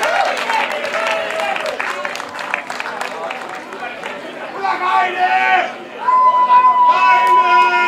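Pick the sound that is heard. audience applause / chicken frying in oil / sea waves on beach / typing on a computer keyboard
audience applause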